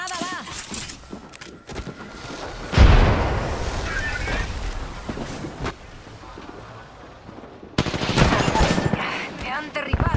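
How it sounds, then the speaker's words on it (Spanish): Grenade explosion and bursts of automatic gunfire in the game Apex Legends, a loud boom followed by rattling shots and another heavy blast, with character voices shouting over the combat. "¡Granada va!"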